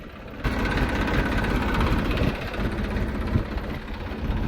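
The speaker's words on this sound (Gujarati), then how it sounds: "જો આ ટ્રેક્ટર ઓટોમેટિક હાલે છે" A tractor engine runs steadily in a farm field during groundnut sowing, kicking in after a brief quiet start into a loud, close, vibrating rumble that holds for the rest of the clip, no speech.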